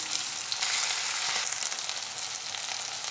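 Chicken pieces fry in garlic butter in a pan as they brown, giving a loud, close, continuous crackling sizzle with no talk over it.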